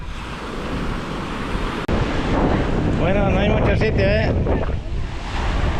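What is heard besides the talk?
sea waves breaking on the beach with wind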